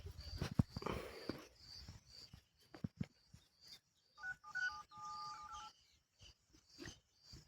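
Phone keypad tones beep in a short run as a number is dialled outdoors among farmers looking for a tractor, faint amid scattered clicks and rustling.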